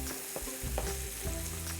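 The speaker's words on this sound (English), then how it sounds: "Cook the onion for another 2 to 3 minutes." Sweet Maui onion frying in a pan for fried rice gives a loud, steady sizzle close by. Occasional stirring scrapes break through the crackle, and no one speaks.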